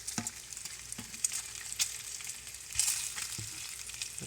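Strips of bacon crackling in a hot pan, a steady close sizzle dotted with sharp pops and spits, with a spatula pressing the strips flat; no voices.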